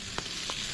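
Pork belly liempo sizzles on a campsite cookout, a steady soft crackle of frying fat broken by two faint pops, with no talking.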